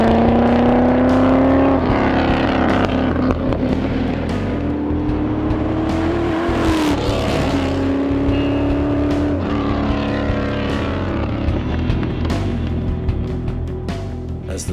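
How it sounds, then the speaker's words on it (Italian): An Aston Martin V8 driving through the Alps, its engine note loud and sustained throughout, rising and shifting pitch as it pulls through the gears, with no talking. "As the sound of the V8 fades across the Alps"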